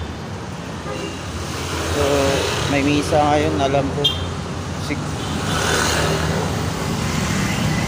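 Road traffic of many vehicles passing near a church in Pasig, with a steady roadway rumble, passing cars and short horn toots, while a person talks over it.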